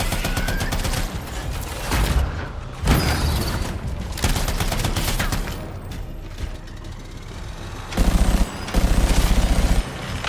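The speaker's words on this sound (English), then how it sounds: "these turret guns absolutely shred" Turret guns in Anthem unleash dense, continuous bursts of rapid automatic fire, loud and close, with heavy rattling volleys stacked over a busy game soundscape and harder, punchier bursts near the end.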